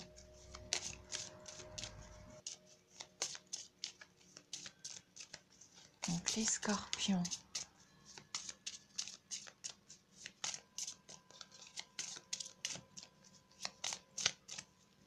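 A deck of wellness tarot cards is shuffled close by in quick rhythmic riffles and flutters that continue throughout, with a voice briefly audible partway through.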